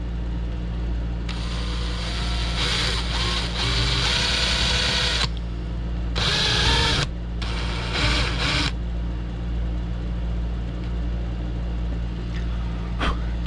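A hand drill bores a hole in a wooden crankbait lure in several whirring bursts of a few seconds each. The motor starts and stops, and the work falls quiet near the end.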